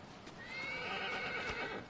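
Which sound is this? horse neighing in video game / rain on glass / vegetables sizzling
horse neighing in video game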